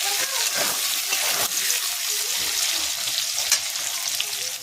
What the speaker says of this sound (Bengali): এটা জাস্ট একটুখানি নাড়াচাড়া করে নিতে হবে।